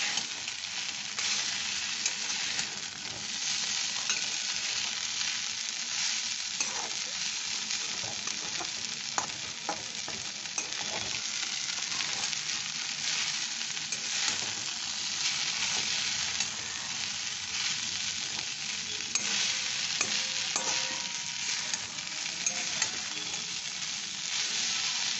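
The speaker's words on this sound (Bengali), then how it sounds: "এবার আমি এটাকে খুব ভালো করে মিশিয়ে নাড়াচাড়া করে মিশিয়ে নেব।" Chira pulao of flattened rice with garam masala powder being stirred and mixed in a frying pan, a steady broad sizzle with repeated scraping and stirring strokes running throughout, close and fairly loud with no talking.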